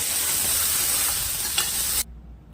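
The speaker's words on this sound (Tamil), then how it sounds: "இது நல்லா வதங்கி வரட்டும்." Two onions sauté in hot oil in a pan, making a steady, close frying hiss that cuts off abruptly near the end.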